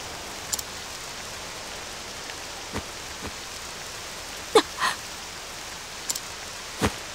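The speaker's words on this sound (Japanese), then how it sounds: "原因はこの雨よ。" Purple rain falls in the video game Octopath Traveler 2, a steady hiss of rainfall with a few scattered sharper drips and taps standing out.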